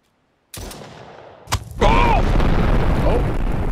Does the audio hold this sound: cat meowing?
no